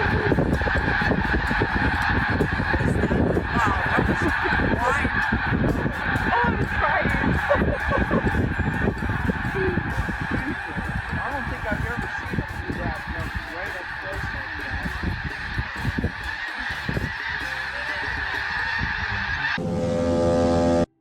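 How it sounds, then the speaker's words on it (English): A vast flock of geese honking all at once, a dense, chaotic wall of overlapping calls that stays loud and continuous throughout with no pauses. "You have honestly never seen a more massive, chaotic cloud of birds crammed into one single spot"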